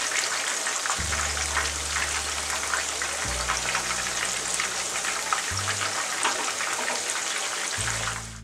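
Chicken pakoda pieces coated in masala deep-frying over a medium flame give a steady, dense hiss and crackle throughout, with a low hum shifting in the background.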